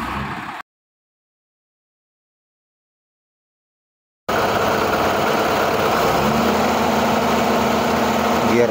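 A Mahindra 275 35 HP tractor hauling a roughly 40-ton load gives a steady, heavy engine drone close by, after a short burst of noise and several seconds of silence.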